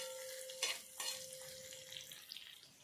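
Quiet sizzle of beetroot and vegetables frying in oil for tawa pulao, broken by a couple of soft clatters of stirring against the pan.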